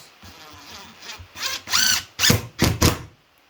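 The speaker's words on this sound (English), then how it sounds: "that clicking noise is the impact driver doing its thing" A DeWALT impact driver whirs briefly, then fires a series of sharp rattling bursts as it drives a screw into wood, close and loud, ending abruptly.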